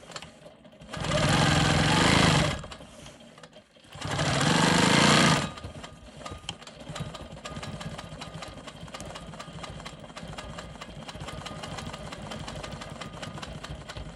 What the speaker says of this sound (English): I'm going to go ahead and stitch in the ditch around this square.